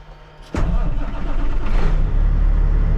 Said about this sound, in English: Let's see how loud the truck is now